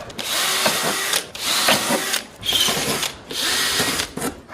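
A power drill bores into a bicycle frame in repeated bursts of about a second each, loud and close, with short pauses between runs and no talking.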